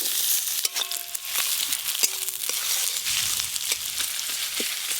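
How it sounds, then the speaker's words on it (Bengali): Chopped onion hitting hot mustard oil with a dried red chilli in the pan, a continuous sizzle with scattered crackles and pops, close and steady, no talk. "এবার প্রথমে দিয়ে দেব পেঁয়াজ কুচি"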